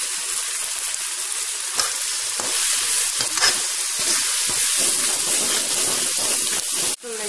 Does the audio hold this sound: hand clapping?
no